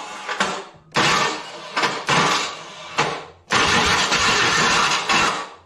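A 1983 Ford Mustang convertible's 3.8L V6 cranks repeatedly in loud bursts, about four tries with short pauses between, the last one longer and sustained, heard up close in a garage.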